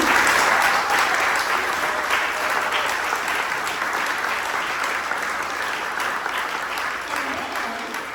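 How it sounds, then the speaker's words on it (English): Audience applause at the Ion Solar Southside awards ceremony, a dense, sustained round of clapping from a large crowd that holds steady and fades slightly toward the end. "So a round of applause also for Tom King."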